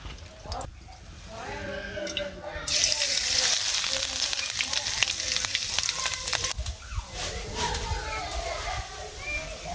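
Vegetables for a mixed vegetable curry hit hot oil in a pan and burst into a loud, steady sizzle that carries on to the end, after a quieter stretch with faint voices and kitchen sounds.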